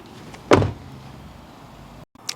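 A car door shuts once from the back seat with a single firm, muffled thud and a brief rattle. Quiet cabin hiss comes before and after it, ending in a faint click.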